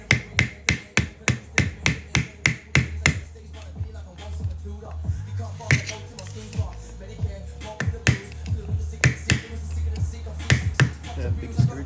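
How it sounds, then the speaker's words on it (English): Sharp metallic strikes hammer against a screwdriver driven at a heated old differential bushing on a VE SS Commodore, a fast run of about fifteen near, loud blows, then a scraping pause and a few more scattered hits. "I've just put some heat on this bushing, and I'm just going to try and bash it out"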